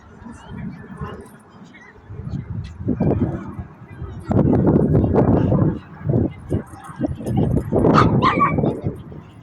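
Several dogs at a Calgary dog park bark and yip close by in loud, irregular bursts, with a few whimpers between them. The barking grows busier toward the end and overlaps itself.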